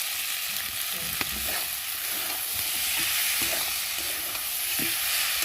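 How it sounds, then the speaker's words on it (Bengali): Spiced masala for an egg dish frying in oil in a pan, a steady close sizzle with scraping stirring strokes at irregular intervals, no voices. "ভালো করে নেড়ে চেড়ে আর এখন আমি পরিমাণ মতো জল দিয়ে দেবো।"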